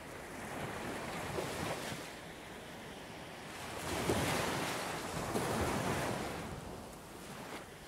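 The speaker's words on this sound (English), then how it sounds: "The waves crashing onto the shore, filling the air with the sound of their rhythmic" Ocean waves crash onto a sandy shore in a soft, rolling rush that swells and fades, with wind noise and no voices.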